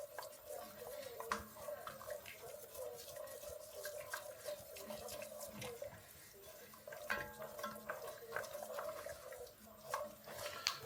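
A spoon or whisk works stock into a roux for chicken fricassee, giving soft wet sloshing and faint scraping in an uneven rhythm, quiet and close, with no voices.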